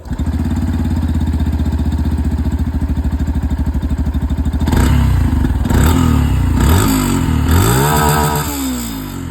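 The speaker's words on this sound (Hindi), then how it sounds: "तो चलिए जो एग्जॉस्ट साउंड है वो भी मैं आप लोगों को यहाँ पर एक बार बिल्कुल सुना दूं।" A Yamaha FZ Rave 150cc motorcycle idles close up with a steady exhaust putter, then its engine is revved in several sharp bursts that rise and fall.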